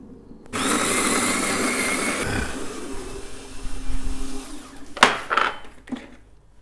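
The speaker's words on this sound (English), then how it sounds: "So we put it here under the coffee grinder" An electric coffee grinder grinds a load of coffee beans, giving a steady, loud, close whir for about four seconds. A few clicks and knocks follow as it stops.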